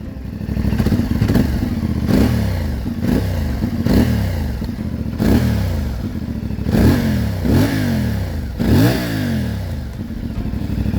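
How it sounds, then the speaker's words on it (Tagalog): A CFMOTO 450MT two-cylinder motorcycle with stock exhaust is revved repeatedly near the mic, about eight sharp throttle blips that rise and fall over a steady idle, no talking. "ang ganda na tumunog lalo na kapag ni-rev tingnan nyo 2 cylinder to rev natin"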